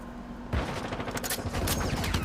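Sustained rapid gunfire from the Call of Duty Warzone Mobile video game erupts after a quiet half-second and keeps going as dense, overlapping bursts, loud and close.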